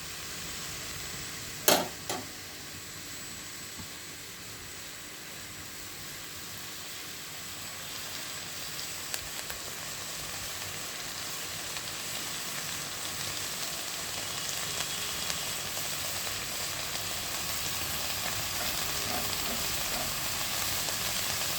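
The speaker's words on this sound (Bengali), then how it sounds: "এবার এই লাউ আর এই ফোড়নের সঙ্গে লাউটা দিয়ে ভালো করে নাড়াচাড়া করতে হবে।" Bottle gourd being stir-fried with a spice tempering. A continuous, even frying hiss runs throughout after a single sharp utensil clank near the start, and no voices are heard.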